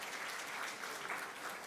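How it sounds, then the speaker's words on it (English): Steady applause from an audience at a spiritual talk, a brief dense wash of clapping at even loudness with no voices. "Big round of applause."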